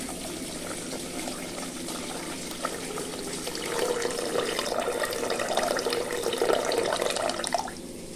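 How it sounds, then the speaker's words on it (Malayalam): Water runs and splashes steadily into a pot for rasam, swelling fuller and louder midway before cutting off near the end. "ഇനി ഇതിലേക്ക് നമുക്ക് വെള്ളം ചേർത്ത് കൊടുക്കാം"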